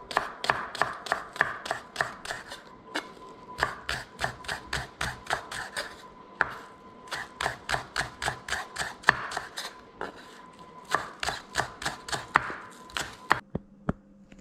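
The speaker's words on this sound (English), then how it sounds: "Slice that up in thin pieces. We're cutting up the scallions." A knife chops scallions into thin pieces on a board: fast, steady runs of crisp, close taps, broken by short pauses between bursts.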